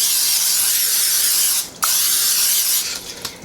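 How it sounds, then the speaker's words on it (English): Hissing cooking spray in a long continuous burst, a brief pause, then a second spray with a few small clicks near the end. "We're going to spray this down."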